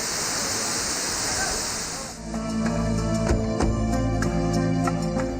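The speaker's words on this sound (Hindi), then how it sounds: "फिर साफ दिखाई और सुनाई देता है घने दरख्तों के दरमियान बुलंद चोटियों से गिरते पानियों का शोर।" A tall waterfall at Kashmir Falls near Abbottabad, tumbling from high peaks through dense trees, gives a steady loud roar of falling water. Partway through it shifts into a busier, less even splash that carries on to the end.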